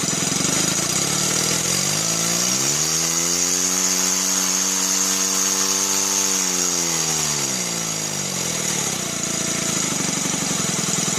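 A Stuart Sirius model steam engine runs fast with no load, its exhaust giving a steady whistling tone that rises and falls in pitch over a constant mechanical clatter, close and loud with no talk.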